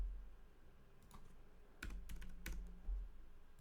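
Quiet typing on a computer keyboard: a few soft isolated clicks, then short clustered bursts of keystrokes, close by in a still room with no talk.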